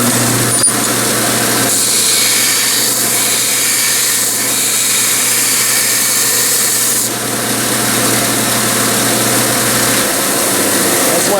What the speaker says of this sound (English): The easiest way I've found to do that is just jump on the belt sander and sand it square.